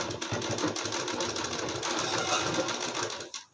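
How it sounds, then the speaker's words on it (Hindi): A sewing machine runs steadily, stitching a heavily embroidered blouse, its fast continuous whir close and loud for about three seconds before stopping abruptly. "दबाते हुए सिलाई लगा देना है।"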